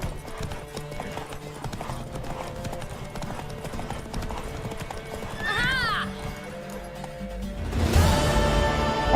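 Rapid clip-clop of galloping horse hooves in The Witcher 3, a horse whinnying partway through, then a louder crash-like burst near the end.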